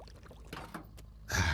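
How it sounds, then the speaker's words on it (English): Water draining out of a UAZ 80/81 car in the driving game Drive Beyond Horizons: a rushing, splashing gush bursts in near the end and stays loud, after scattered quieter clunks and rustles. "I just drained a bunch of water out of that accidentally."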